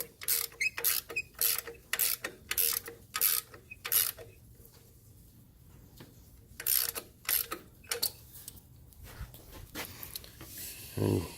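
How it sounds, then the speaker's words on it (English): Ratchet tightening the belt adjustment bolt on a Jeep Wrangler TJ with the 2.5 four-cylinder engine, bursts of quick clicking strokes close up, separated by short quiet pauses. "this is your adjustment bolt. You're just going to tighten this up."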